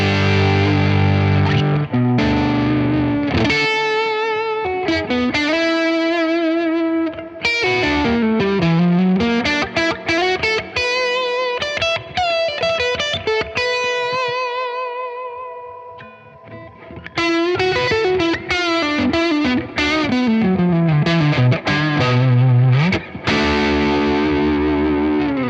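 An electric guitar runs through a Tone King Imperial preamp pedal with the mid bite raised, playing loud, sustained distorted chords and melodic lines with chorus-like shimmer, ringing out alone for about twenty-five seconds.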